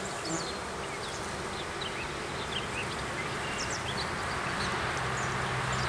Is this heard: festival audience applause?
no